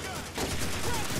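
Gunfire in the World War II shooter Call of Duty 2, D-Day campaign, sounding as a dense, continuous burst of shots across a short span, with a voice briefly audible underneath.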